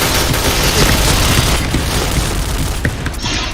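A bomb blast in the shooter game Point Blank, a loud, sustained booming rumble with crackling debris that fills the whole stretch and fades slightly toward the end.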